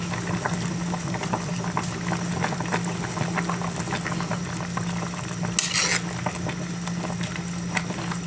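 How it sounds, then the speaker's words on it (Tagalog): Sinigang na bangus soup with kangkong bubbles at a steady boil while being stirred, a continuous close burble with occasional soft scrapes and one brief splash. "At medyo hahaluin lang rin po natin yan para lumubog at maluto ang ating kangkong."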